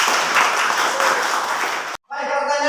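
Classroom group applauds in a dense, steady wash of clapping that cuts off abruptly, followed by a voice speaking.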